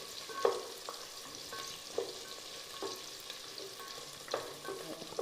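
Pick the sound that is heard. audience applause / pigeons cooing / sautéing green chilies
sautéing green chilies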